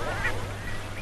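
A chicken squawks loudly up close, a short harsh fowl call with a steady hum running underneath.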